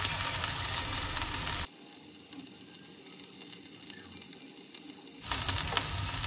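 A buttered vegetable and chicken sandwich frying in a pan, a steady loud sizzle that cuts to near quiet for a few seconds and then returns, with no talking.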